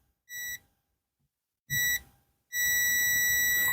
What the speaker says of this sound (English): Right, it is beeping now